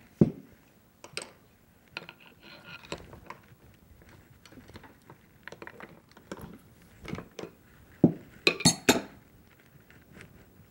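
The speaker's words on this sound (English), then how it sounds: "Now we're going to take this bolt out right here" Metal parts of a Dow VCR engine clink and ratchet as a bolt is worked loose, a series of sharp close taps and rattles, with a louder burst of clanking near the end.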